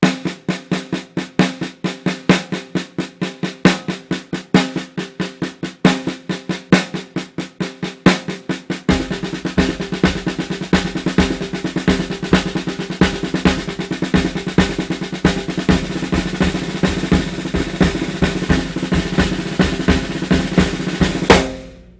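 A drum kit plays a rapid paradiddle-diddle sticking pattern, sparse at first and then filling out with fuller drums and cymbals, loud and steady.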